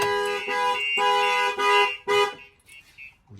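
An aftermarket alarm on a Ford Transit Custom van blares nearby in long pulsing horn blasts, repeating several times before cutting off to near silence.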